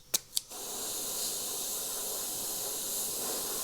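An airbrush sprays transparent black paint in a steady, close hiss that runs unbroken after two short clicks at the start.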